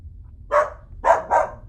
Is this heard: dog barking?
yes